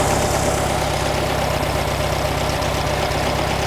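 A 1957 VW Beetle engine with a leaking throttle shaft idles close by, a steady low rumble with an even pulsing beat throughout and no talking.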